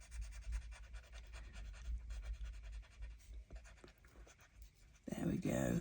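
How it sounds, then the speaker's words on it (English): A coloured pencil scratches across an old book page, laying down red at the base of a drawing; the faint, rapid strokes continue beneath a quiet voice, with louder talk near the end. "Then I'm going to get the red and I'm going to just colour in at the base."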